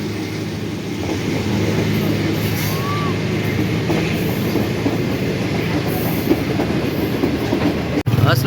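Trains rolling through Kamoke railway station near Lahore, Pakistan, a loud, steady rumble with rhythmic wheel clatter and a brief squeal, close by, with faint voices under the noise.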